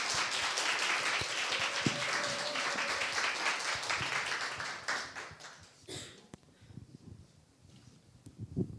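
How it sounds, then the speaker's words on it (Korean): An audience applauds to welcome a speaker at a book and life concert, a dense burst of clapping lasting several seconds up close, then fading into scattered claps and quiet room noise. "박수로 맞아주십시오."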